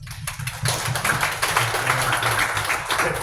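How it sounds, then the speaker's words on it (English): An audience applauds at a Bedrock tech meetup, dense steady clapping filling the room for a few seconds with no one speaking over it. "Let's give a round of applause"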